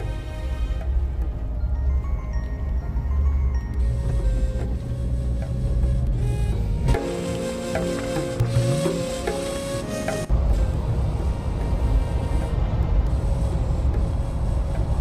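A Mahindra Thar on a December morning drive near the Debra toll plaza gives a steady, close rumble of engine and road noise inside the cabin, with a few shifts in tone along the way.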